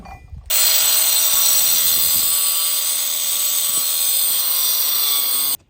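A power tool cuts steel pieces for a homemade 3-point trailer mover, giving a loud, steady high-pitched whine that runs unbroken for about five seconds after a brief quiet start.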